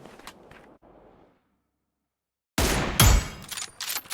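An M24 sniper rifle fires in the mobile shooter PUBG New State, a loud sharp blast with a rumbling tail after a stretch of near silence, followed by a few more cracks.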